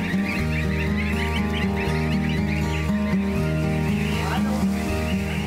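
A flock of geese on a free-range farm honks and cackles continuously and close by, many overlapping calls forming a dense, noisy chorus.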